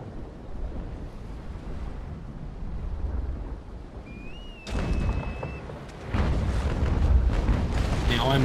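Ship cannons fire in the Naval Action video game as heavy rumbling blasts that kick in abruptly over a constant wash of wind and sea, a second volley following shortly after.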